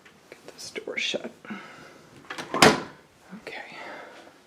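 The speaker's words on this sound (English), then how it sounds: "Get this door shut." An indoor house door is pushed shut with one sharp, loud thud that stands out amid soft movement and whispery noise at the foot of a staircase.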